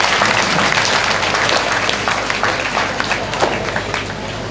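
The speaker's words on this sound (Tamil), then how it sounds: "அந்த பிள்ளைக்கு ஒரு நல்ல கைத்தட்டு கொடுங்க." An audience at a temple consecration debate program applauds steadily for a girl's singing, a dense, close wash of clapping throughout.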